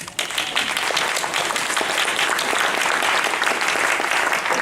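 A room full of people applauds at a gathering, steady dense clapping that stays loud and even from start to finish.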